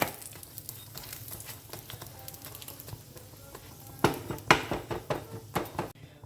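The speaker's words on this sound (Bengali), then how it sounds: "দুটো পাশ ভালো করে সেঁকে নিতে হবে তেল দিয়ে, অল্প তেল দিয়ে সেঁকলেই হবে" A paratha fries in a little oil on a flat tawa for a street-food egg chicken roll, giving a steady soft sizzle that swells in the second half as a metal spatula scrapes and clatters against the pan.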